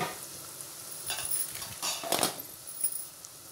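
Onion and green chillies fry quietly in a pan for okra pulusu, a soft sizzle rising in a few short bursts as they are stirred, with faint scraping in between.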